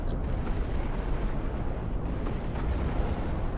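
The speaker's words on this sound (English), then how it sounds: "Yep, here goes my bombing run." Rumbling, continuous bombardment from a bombing run in the strategy game Planetary Annihilation, a dense low roar of overlapping explosions that stays steady and fairly loud throughout with no clear individual blasts.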